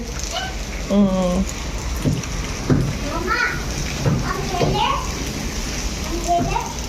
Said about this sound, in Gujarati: તો હજી વરસાદ એવો ને એવો જ આવે છે વરસાદ બંધ નથી થયો હજી